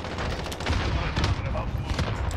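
Explosion and rapid gunfire in the Call of Duty: Modern Warfare video game, a loud burst of overlapping shots and booms.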